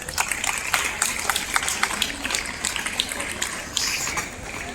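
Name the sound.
applause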